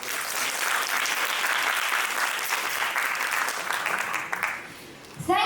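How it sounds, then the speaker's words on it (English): Audience applause fills a business case presentation event with sustained dense clapping that stays loud and steady, then tapers off near the end. "Let's give them a big round of applause."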